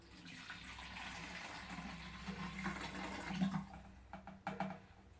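Water from a measuring cup poured into a container at home, about three quarters of a cup for a lava lamp, gives a steady close splashing trickle that swells and then tapers off into a few drips.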